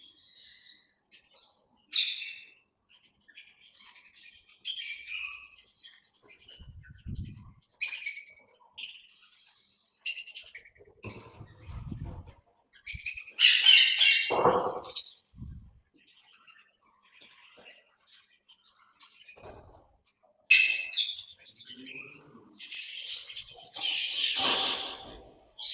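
Parrots in an aviary give scattered shrill squawks and chirps, some close and loud, others softer, in irregular bursts with quiet gaps between.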